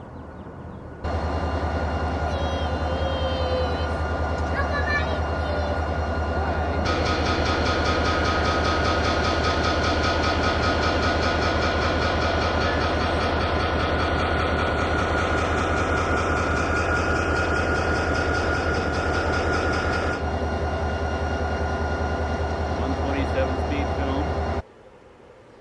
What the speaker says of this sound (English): Well, here's the cars that were on the tail end of our train.